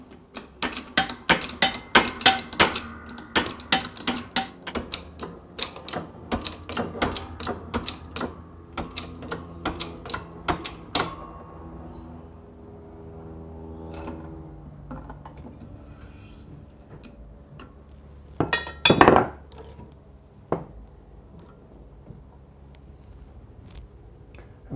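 Metallic taps and clicks ring out in a quick irregular series as a water pump shaft is pressed into place with a special tool on a Gilera Saturno motorcycle engine, then fade to a quiet pause and a final brief scrape.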